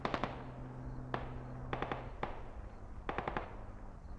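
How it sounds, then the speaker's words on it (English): Sharp gunfire and an explosion-like crack ring out in a Squad military shooter game, a scattered series of loud rapid shots over a steady rumbling battlefield background. "I heard an explosion."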